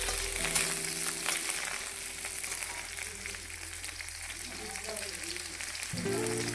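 Steady sizzling of green chilies frying in hot oil, a continuous crackling hiss throughout, close by, with faint background hum.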